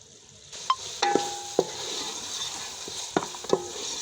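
Ghee added to a pan of cooking mutton korma, giving a soft steady sizzle with several sharp clinks and stirring knocks of a utensil against the pot, fairly quiet and without talk.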